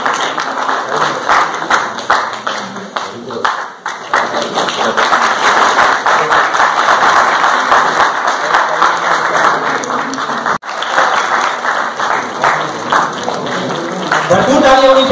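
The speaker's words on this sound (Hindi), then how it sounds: "भरपूर ताली होनी चाहिए।" An audience at a quiz event gives prolonged, dense applause for the top three winning children, a steady wash of clapping lasting many seconds with voices mixed in.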